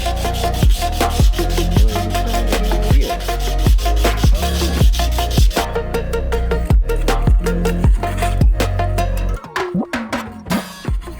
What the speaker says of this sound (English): So this 180 grit sand is just to get the metal down to a nice fresh clean surface again